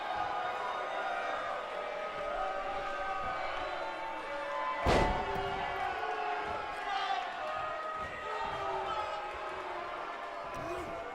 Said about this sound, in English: Crowd getting riled up.